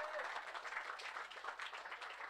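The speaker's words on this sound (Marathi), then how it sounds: "त्यांच्यासाठी सुद्धा जोरदार टाळ्या" Sustained applause from a crowd at a prize ceremony for the Bhatibander Premier League 2022 cricket tournament in Virar, a dense steady patter of many hands clapping at once with no pause.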